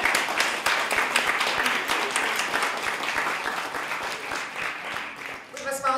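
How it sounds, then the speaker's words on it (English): Sustained audience applause at a university lecture-series event on migration and health care, steady dense clapping filling the room throughout, with a voice briefly rising near the end. "All right, Barbara, we were giving you a round of appreciation and applause."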